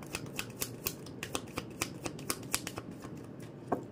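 Tarot cards being shuffled by hand, a steady run of soft crisp riffling flicks and taps repeating about every quarter second over a faint room hiss, close and moderately quiet, with no talking.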